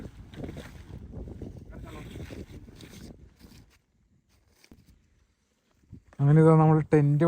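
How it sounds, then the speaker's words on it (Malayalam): A strong wind roars and buffets across a rocky campsite in Wayanad for a few seconds, then dies to near silence before a voice speaks. "അമ്മാതിരി കാറ്റായിരുന്നു ഇവിടെ"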